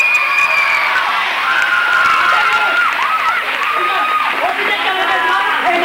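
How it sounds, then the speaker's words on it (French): A school audience at a 1992 collège performance of Le Bourgeois Gentilhomme applauds and cheers student actors, a loud, dense mix of clapping and high children's shouts and whoops, with voices calling over it throughout. "on peut encore les applaudir parce qu'ils ont bien travaillé"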